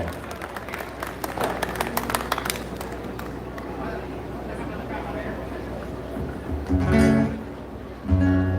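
Crowd applause greeting a performer at an outdoor serenade for the Battle of Ayacucho anniversary in Ayacucho, a dense burst of clapping at first that softens under crowd noise, with a loud announcer's voice and music rising near the end.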